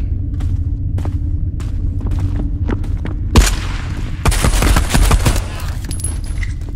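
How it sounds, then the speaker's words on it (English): Pistol shots in the space-pirate video game Marauder: a sharp, heavy boom followed by a quick cluster of further shots, set over a steady low in-game drone. "Damn, this pistol is good."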